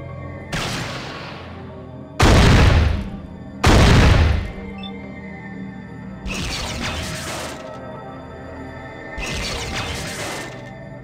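Gunfire in combat in the video game Fallout 1: five separate loud, sharp shots spaced a second or two apart. Each one decays into a brief rumbling tail, and two of them sound heavier than the rest.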